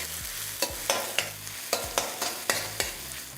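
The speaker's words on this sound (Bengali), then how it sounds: "আর পেঁয়াজটা যতক্ষণ ভাজা হচ্ছে" Onion slices sizzle steadily in a hot pan while a utensil scrapes and taps through them in a regular stirring rhythm.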